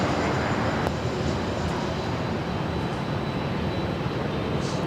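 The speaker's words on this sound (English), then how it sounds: "this is Delta Connection SkyWest 4081 coming in from Oakland on an E175LR" An Embraer E175LR jet airliner arriving at LAX, a loud, steady engine roar and broadband rush that stays constant throughout, close and unbroken, with no talking.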